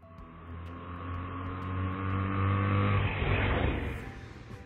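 A three-wheeled tuk-tuk engine, built like a motorbike, hums steadily with a droning buzzy tone that rises in pitch as it revs and moves off, loud and continuous with no voices.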